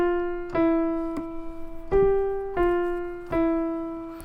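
A simple three-note Hot Cross Buns melody played as clear sustained pitched tones, five distinct attacks each decaying slowly, the phrase ending on a plain E, solo with no voices.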